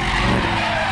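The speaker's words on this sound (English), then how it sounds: "I love that there's so many 86s that come out drifting in Arizona." A Toyota 86 drifts on a desert track in Arizona, its tires skidding in a loud continuous roar with the engine beneath, heard close and alone.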